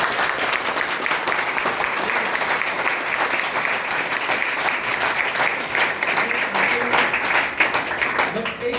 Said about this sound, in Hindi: और मैं आपकी तालियों के गड़गड़ाहट से देखना चाहता हूँ